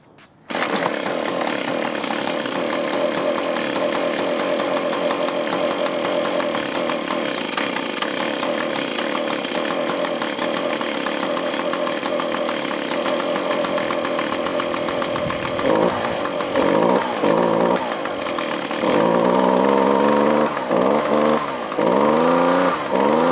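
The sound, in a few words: leaf blower or trimmer engine running, idle turned up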